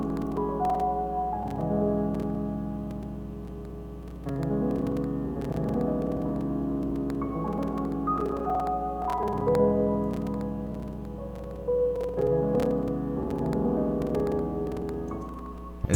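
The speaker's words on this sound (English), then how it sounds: "next I have this piano, and this piano also has 2 different parts to it" A mellow piano plays chords with a repeating melodic phrase in steady cycles, sustained notes ringing under a faint background hum.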